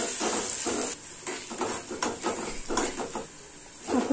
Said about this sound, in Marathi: आता त्यात घालायचा कढीपत्ता आणि फोडणीला कांदा घालायचा